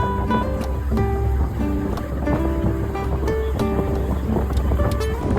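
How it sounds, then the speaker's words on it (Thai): A large ferry crosses the sea from Ban Phe pier toward Ko Samet island. Its engine gives a steady, droning hum with tonal layers and some rushing water, fairly close and unbroken throughout. "และนี่ก็คือเรือลำใหญ่ เรือข้ามฟากจากท่า บ้านเพ ไปเกาะเสม็ดนะครับ"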